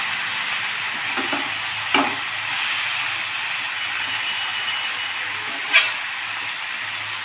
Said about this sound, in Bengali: ভালো করে নেড়ে আমি গ্যাসটা মিডিয়াম গ্যাস করে আমি এটাকে ভেজে দেব।